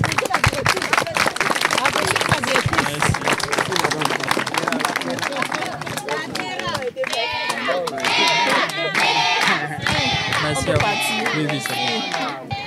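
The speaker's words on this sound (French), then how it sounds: "Applaudissez." Children and an audience applaud at a school event, sharp clapping and crowd noise that thin out midway, followed by excited children's voices and shouts carrying over scattered claps.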